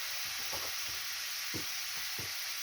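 Soft scraping swirls of a spoon stirring thick onion fritter batter with flour, several strokes in a steady rhythm over a constant background hiss, no voices.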